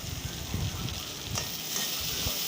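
Tomatoes, fried peas and peanuts are stirred in a frying pan, producing a soft continuous sizzle with scraping and shuffling stirs underneath.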